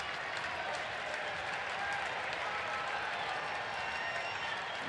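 A large stadium crowd of about 31,000 at a major league baseball game gives a sustained, somewhat sarcastic cheer and applause, a steady distant wash of clapping and voices filling the whole stretch.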